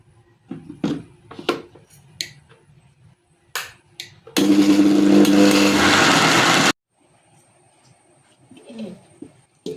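A mixer grinder whirs loudly in one continuous burst of a couple of seconds as it blends ripe banana and jaggery syrup into unniyappam batter. Pigeons coo nearby before and after the grinding.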